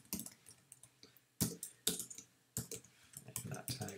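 Fingers typing on a computer keyboard, bursts of quick close clicks separated by short pauses, with a few louder key taps standing out in an otherwise quiet room.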